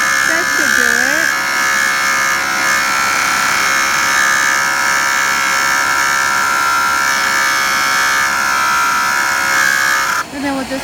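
A JOOLTOOL grinder polishes bevelled edges on dichroic glass with a loud, steady high-pitched whine and buzz that holds for about ten seconds before briefly dropping out near the end.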